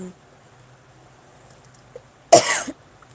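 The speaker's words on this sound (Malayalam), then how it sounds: "ഇവിടെ എനിക്ക് ഇന്നലെ വൈകുന്നേരം തൊട്ട് തുടങ്ങിയത് ചുമ" A single short, harsh cough close by, breaking an otherwise quiet background.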